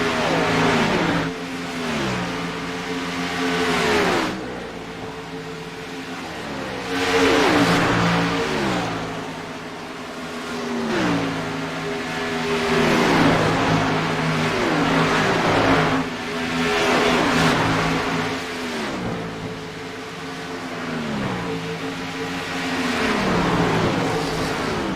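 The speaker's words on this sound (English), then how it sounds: "Watching these four cars work their way back across the stripe one more time." Stock cars in a SCAR race at Las Vegas roar past in repeated waves, engines revving and shifting as the pack works by, loud and continuous with no talk.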